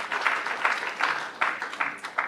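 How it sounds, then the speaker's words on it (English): Audience applause at an academic panel on higher education in Africa, steady and moderate, a room of hands clapping with a few louder surges, alone without talk. "Give him a round of applause."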